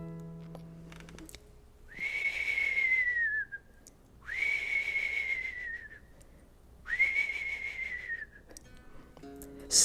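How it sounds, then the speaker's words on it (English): Three long whistles, each holding one high note that sags slightly at the end, sound with pauses between them over faint background hiss. "suddenly I hear an eerie sound, a sort of whistle."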